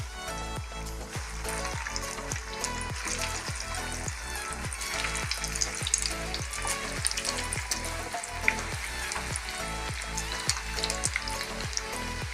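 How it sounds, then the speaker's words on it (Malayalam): Banana blossom cutlets fry in hot oil, giving a dense, continuous crackling sizzle that stays steady and close, with faint rhythmic tapping underneath and no talking. "ഫ്രൈ ആവട്ടെ."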